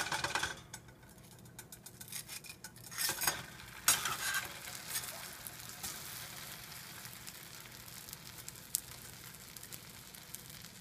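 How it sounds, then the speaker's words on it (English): A grilled cheese sandwich sizzles in a pan after being flipped, a soft steady frying hiss with a few sharper scrapes and clatters early on, no voices. "And then you can hear it sizzling again"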